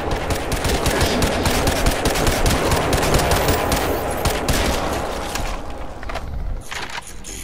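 Crysis 2 gunshots, a long loud stream of rapid automatic fire close by, staying dense for several seconds before thinning out near the end.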